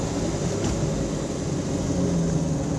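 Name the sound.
1976 Alfa Romeo GTAm engine at partial throttle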